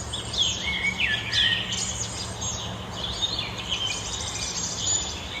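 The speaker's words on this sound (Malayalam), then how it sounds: "കാണാൻ കിളികളൊക്കെ വരുന്നുണ്ട് ഇവിടെ." Wild birds at a feeder on a New York farm, chirping and calling in a lively overlapping chorus from fairly close by, with faint insect buzz beneath and no talking.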